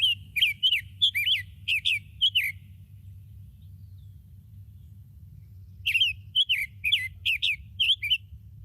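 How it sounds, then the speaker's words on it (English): Songbird similar to a Scarlet Tanager giving rapid, high chirping calls in two bursts of several notes each, separated by a few seconds of quiet, over a low steady background hum. "If you just wait for them to call, you can tell the difference. So they say ticky-tuck."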